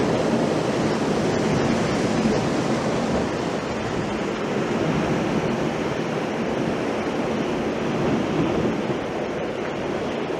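Sea waves wash against the shore at Blackpool in a steady, dense rush of surf that rolls on without a break, loud and close, with some wind mixed in.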